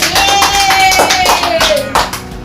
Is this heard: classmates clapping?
yes